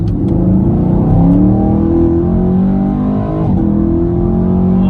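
A 2019 Camaro SS engine roars steadily, its pitch climbing as it revs and accelerates hard, loud and close with no voices.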